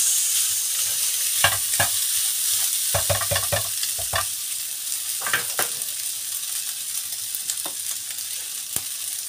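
Fried rice is stir-fried in a pan, with steady close sizzling broken by sharp scraping and clacking bursts from the utensil, and no voices.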